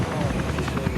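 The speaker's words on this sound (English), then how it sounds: "Task Force Black sets off in their helicopters for the target house." Military helicopters fly overhead in a steady, loud rotor thrum with rhythmic blade chop, set during a special operations night raid, with a voice talking over the engine noise.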